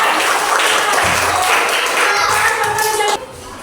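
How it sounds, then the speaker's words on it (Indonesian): Students applaud in a classroom, a busy, continuous clapping with a few voices mixed in that drops off sharply near the end. "Oke, tepuk tangannya."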